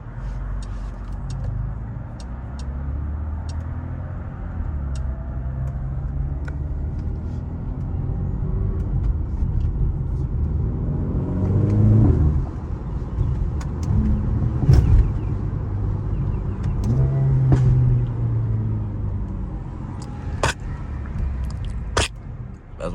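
Mercedes-AMG driven in daytime in track-focused driving, engine droning steadily with sharp exhaust pops and crackles breaking through several times, loud and close from inside the cabin.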